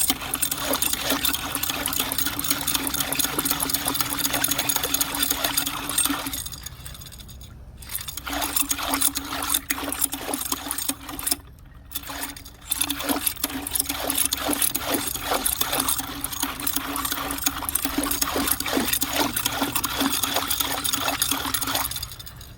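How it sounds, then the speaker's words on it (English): A paintbrush fixed to a brush and roller spinner whirs and rattles in a container of water, a rapid mechanical churning that runs steadily with two short pauses, with no talking. "So once you have your brush connected to your rotor spinner, dip it in the water."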